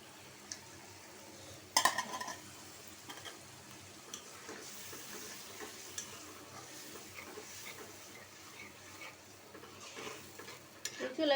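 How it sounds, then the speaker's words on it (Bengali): Spice paste of ground chili and turmeric sautéing in a pan for chicken curry, a faint steady sizzle with occasional clinks and scrapes of a utensil against the pan, one louder clatter early on. "মশলাটা একটু সুন্দর হয়ে কষানো হয়"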